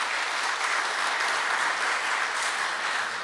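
Audience applause at a formal event in Peru honoring a doctor, the Chilean ambassador, a steady dense wash of clapping held at even loudness throughout, with no voices over it.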